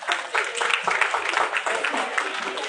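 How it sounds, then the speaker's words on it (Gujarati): An audience at a cooking competition in Jamnagar applauds the participants with a thick, continuous wash of clapping that rises quickly and holds steady throughout. "બધી વાનગી તમારા બધા માટે તાળીઓ."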